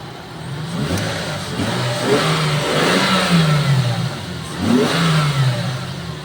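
A 1999 Toyota Sport Rider pickup engine runs close by and revs up twice in smooth swells, the pitch climbing and falling back to a steady idle between throttle blips, with no one speaking.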